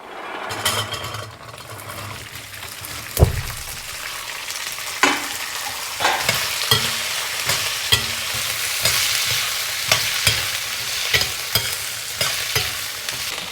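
Mongre (radish pods) fry in a pan, a steady sizzle with repeated scraping strokes and clinks as a spoon stirs them close by.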